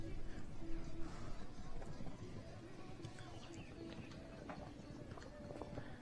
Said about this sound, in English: Got a really good canter going there.